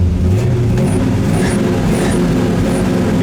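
A 1965 Chevrolet El Camino with a 2-barrel carburetor idles steadily nearby, a continuous low engine rumble with no talk over it.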